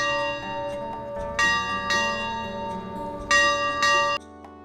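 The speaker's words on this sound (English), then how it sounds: "when the dinner bell rings throughout the ranch" A ranch dinner bell rings out at a Wyoming guest ranch, loud clanging strikes with long ringing overtones, several hits in irregular bursts that sustain and then cut off.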